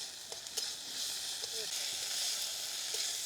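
Garlic frying in hot oil with chopped onions and spices, a steady bright sizzle with a few light stirring clicks over it.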